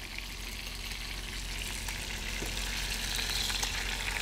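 Scallops searing in a hot pan, giving a steady close sizzle and crackle throughout with no talking.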